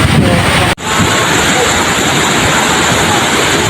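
The waterfall at Hulugan Falls in Luisiana gives a loud, close, steady roar of falling water that continues with only a brief dropout near the start.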